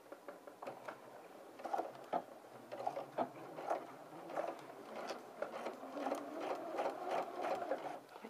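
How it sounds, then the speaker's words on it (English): Sewing machine stitching garment lining toward a vent, a quiet rapid mechanical patter in uneven bursts with brief pauses, close and alone. "I'm now starting to sew from the actual lining towards the garment"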